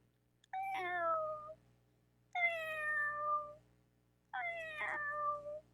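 A person imitating a cat, giving three drawn-out meows with wavering pitch, each about a second long and separated by short silences, close and clear.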